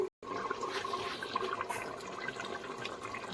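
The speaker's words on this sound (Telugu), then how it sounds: "అందులోది వాటర్ పోసుకుంటున్నాం మనం ఫ్రెండ్స్ చూడండి ఇంకా పోసుకుందాము" Water poured into a pot of goat trotter curry while it cooks, a steady splashing, gurgling pour that runs close and continuous for a few seconds after a brief break at the start.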